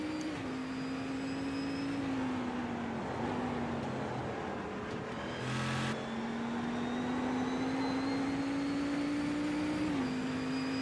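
A Cadillac race car in the iRacing sim at Thompson Speedway drones at steady high revs, a buzzing engine tone rising and dipping slightly as it laps, loud and continuous with no voices over it.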